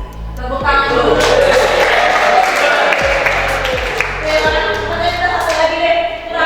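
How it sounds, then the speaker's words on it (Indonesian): Meeting participants applaud together in a sustained burst of clapping that runs for several seconds at close range, mixed with a few chatty voices and occasional heavy thumps. "Tepuk tangan dulu."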